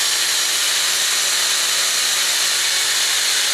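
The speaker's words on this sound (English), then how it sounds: "Then we start the drill slowly, and as it starts to spin here, we gradually lift it up" A power drill spins steadily while twisting wire for a wire tree, giving a loud, unbroken high whirring whine that holds even from start to finish with no speech.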